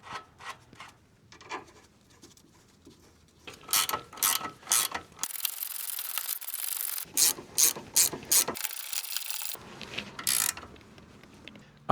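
Ratchet seating bolts on a Land Rover Discovery 3 suspension, with bursts of rapid clicking strokes in short repeated runs, close and crisp, separated by quieter pauses and handling noises.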